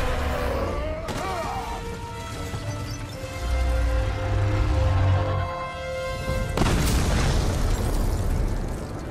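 Booming explosions in God of War (2018) erupt in a couple of heavy bursts over a musical soundtrack during a dragon fight, loud and rumbling.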